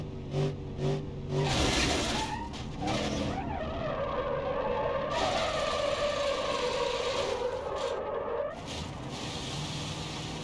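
A police car with a sliding tire skids and whirs in BeamNG.Drive on the Car Jump Arena, engine droning steadily with tire scrub and scraping bursts over ten seconds, loud and close, no voices.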